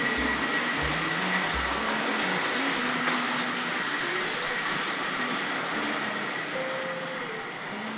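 A Hornby Battle of Britain class model locomotive, plastic-geared, runs into a model railway station with a steady whirring motor hum and a faint rolling clatter under it, close and alone, no voices.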